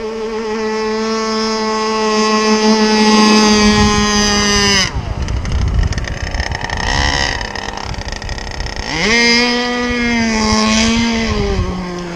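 A small gas-powered RC boat engine running and warming up: a loud, buzzing two-stroke drone that climbs in pitch, cuts out into rough splashing noise, then revs back up to a high whine.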